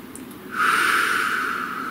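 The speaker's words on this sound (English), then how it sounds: "Please take a nice deep breath." A deep breath: a single long, close inhalation through the nose that begins about half a second in and holds steady as a breathy hiss until the end, with no talking.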